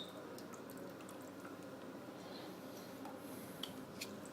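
Fish sauce trickling into Tom Yum soup, a faint quiet pour with soft scattered drips and splashes, nearby and alone.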